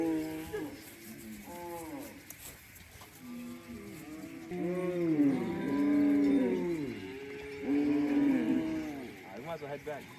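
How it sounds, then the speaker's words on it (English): Cattle mooing at a cattle camp in South Sudan, several cows lowing in long overlapping calls of varying pitch, some close and loud, with faint voices in the background. "You met any cows here?"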